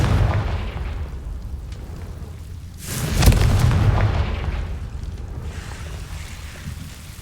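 Confringo explosive spell blast in the video game Hogwarts Legacy: a deep booming burst swells midway over a rumbling background, then fades back into a low, continuous roar.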